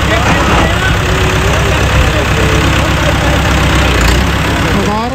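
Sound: tractor engine idling

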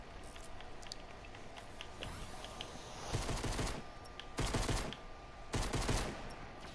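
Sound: hunting rifle shots in a video game

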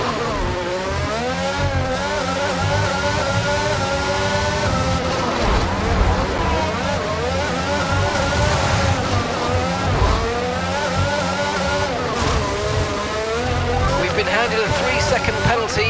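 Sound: Formula 1 race car engine in the F1 22 video game

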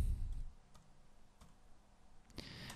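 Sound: mouse clicking and typing text on a computer

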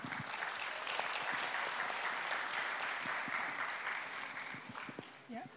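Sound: audience applause for the art teacher

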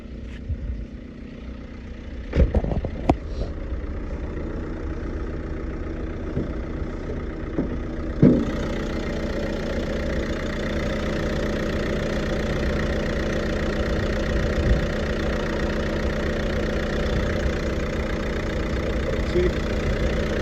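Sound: diesel car engine idling

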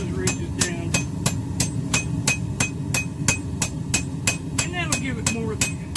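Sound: two-pound hammer tapping ridges on half-inch rebar

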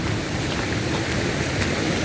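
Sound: waterfall

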